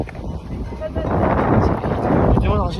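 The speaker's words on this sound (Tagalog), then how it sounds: "Medyo malakas yung hangin." Strong wind buffets the microphone beside a boat parking area at an adventure reserve, a loud continuous rumble with faint bells and brief talking.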